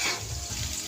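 Onion and garlic sautéing in margarine in a pan, a close, continuous frying hiss with soft stirring scrapes, no voices.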